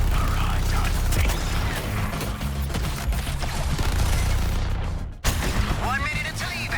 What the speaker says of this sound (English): Firing barrage on six.